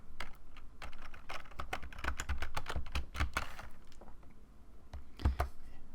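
Rapid close keystrokes on a computer keyboard, irregular clusters of clicks as a username and password are entered, with a brief pause near the end before a final burst.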